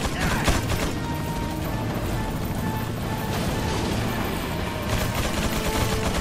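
Enemy gunfire in Resident Evil 4 video game, a dense continuous rattle of shots and crashes, loud and sustained throughout with no clear breaks.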